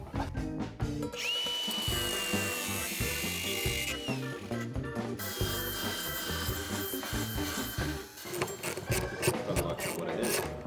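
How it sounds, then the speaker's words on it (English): A power tool whines steadily and then gives way to rough grinding and scraping as a metal chassis identification plate comes off a Volvo 740. The work is close and busy, with clanks and rasping throughout. "So I just removed this plate. It's like almost like a chassis identification plate."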